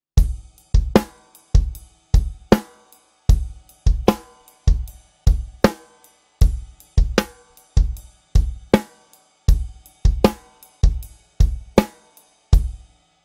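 A close, solo drum kit repeats a steady 16th-note rock beat with punchy kick and snare accents and busy hi-hat subdivisions throughout.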